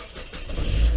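A Mazda Miata engine cranks and catches, a mid-pitched rumble that swells louder and rougher over about a second as it fires up, close by with no talking.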